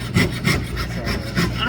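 Jeweler's saw cutting through silver sheet on a bench pin, giving a steady back-and-forth rasp of close, regular strokes, about four in under two seconds.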